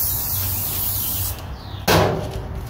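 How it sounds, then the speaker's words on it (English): Sprayaway stainless steel cleaner is sprayed liberally onto the stainless surface of a gas grill. A quiet rubbing rustle is followed by a sharp, close hiss from the spray nozzle. "Spray it around your stainless steel pretty liberally."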